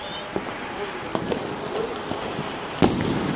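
Diwali firecrackers in Delhi pop sharply several times at irregular intervals, some distant and one loud bang near the end, with voices talking in the background.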